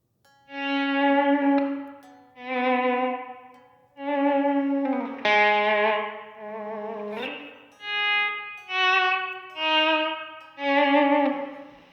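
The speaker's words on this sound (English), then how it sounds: "between the distortion effect and a volume pedal here, I can get kind of nice ambient swells" Distorted electric guitar notes, shaped by a volume pedal with no reverb, swell in gradually one after another, each fading up smoothly and dying away, forming slow ambient waves with no picking attack.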